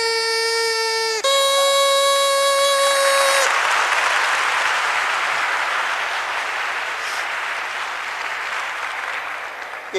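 Audience applause bursts in right after a homemade pipe's last loud harmonic tones, swelling into dense, steady clapping that slowly thins out.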